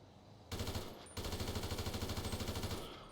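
Rapid automatic gunfire in GTA 5 rattles in two sustained bursts, with a brief pause between them, fairly quiet overall.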